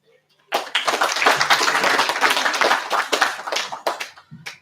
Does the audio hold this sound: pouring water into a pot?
no